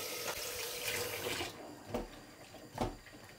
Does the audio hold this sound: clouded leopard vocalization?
no